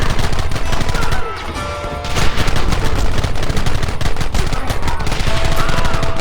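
Dense, rapid gunfire from Red Dead Redemption rattles continuously in loud overlapping bursts, with near and distant shots mixing and barely any pause across the stretch.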